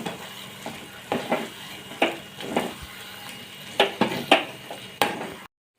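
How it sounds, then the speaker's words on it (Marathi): Fenugreek leaves stir-fried in garlic paste and oil, a quiet underlying sizzle punctuated by a dozen or so irregular spatula scrapes and knocks on the pan, close up with no talking. "तर आता त्याच्यामध्ये आपण मेथी घालूया, आणि परतून घेऊया."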